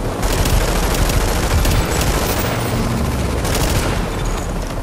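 Gunfire in The Division multiplayer game as a rogue group attacks other players: dense, loud bursts of automatic shots and booms overlapping continuously, no talking.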